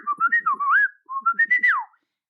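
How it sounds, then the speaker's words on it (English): Two bursts of melodic human whistling trading phrases back and forth, each a quick run of short rising notes ending in a swooping slide, clear and close with a short pause between. "whistling back and forth to each other"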